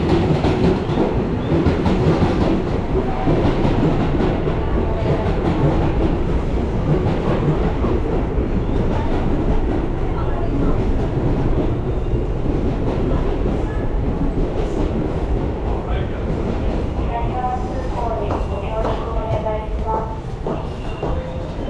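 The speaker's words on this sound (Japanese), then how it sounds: "まもなく2番線を電車が通過します" A Keio Line train rumbles through Shimo-takaido Station without stopping, with continuous clattering wheels and a loud, steady roar that eases slightly toward the end, with faint squeals.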